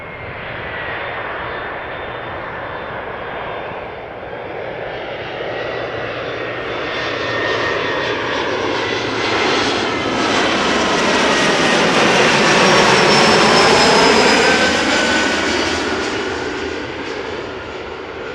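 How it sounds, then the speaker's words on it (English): A KLM Embraer 175 jet arriving at Amsterdam Schiphol roars loudly close overhead, its engine whine swelling and sweeping through a long pass before easing off, with no talk. "Next up, Embraer 175 coming in from Leeds, KLM flight 1542"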